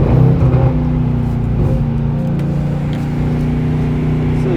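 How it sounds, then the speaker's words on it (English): A car at a car meet in a garage setting runs close by with a loud, steady low engine drone and a slight rise in revs at the start, no talk heard. "So you guys can hear the car."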